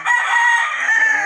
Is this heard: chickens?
yes